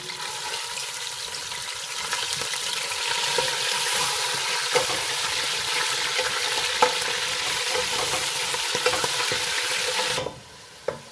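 Mutton pieces fry in hot oil in a pan until golden brown, a loud, steady close sizzle with occasional stirring scrapes that cuts off near the end.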